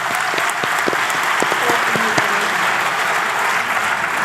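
An audience at an Urdu mushaira during a literature festival breaks into close, loud applause, a dense continuous clatter of hands with a few sharper individual claps standing out.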